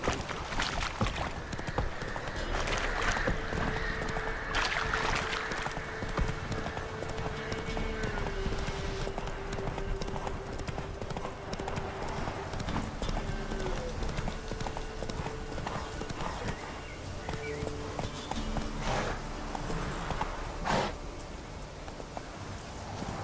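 Roach's hooves clip-clop continuously at a steady pace in The Witcher 3, a close rhythmic clatter with occasional brief game sounds layered over it.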